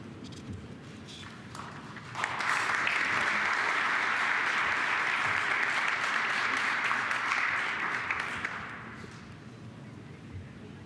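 Applause from the audience at a closing awards ceremony swells suddenly, holds as a dense, even clatter of many hands for several seconds, then fades back to a quiet room.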